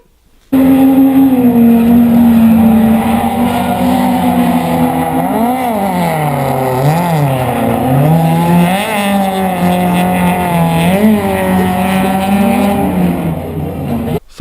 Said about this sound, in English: I was able to drift in third the bank, as you'll see this video right here.